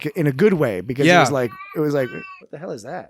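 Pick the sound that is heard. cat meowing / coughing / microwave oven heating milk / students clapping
cat meowing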